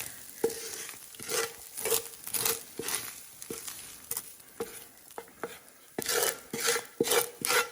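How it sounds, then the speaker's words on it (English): Raw beef going into a simmering pot of pizza soup, with repeated stirring and scraping knocks against the pot, soft wet patter and light sizzle in uneven bursts, fairly close and without talk. "we're gonna add our beef to this soup"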